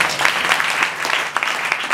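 Congregation clapping at a Sunday church service, a steady dense patter of many hands filling the space, fairly close and continuous with no pauses.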